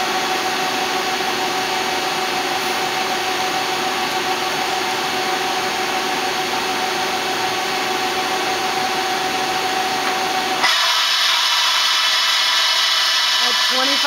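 A Citizen L32 CNC lathe runs its live tools with a loud, steady machine whine and hum, shifting to a brighter, higher tone near the end.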